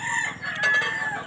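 Backyard chickens, grown hens kept at home, cluck and crow nearby in a short, moderately quiet burst with no voices.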